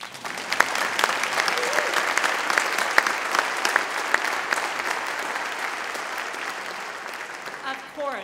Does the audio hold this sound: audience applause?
yes